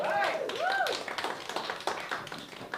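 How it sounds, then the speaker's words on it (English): An audience at a stand-up comedy open mic in Hamilton claps for the host, a burst of scattered, fairly close handclaps that builds after a voice speaks over the opening moment. "big applause for our wonderful host, Paul"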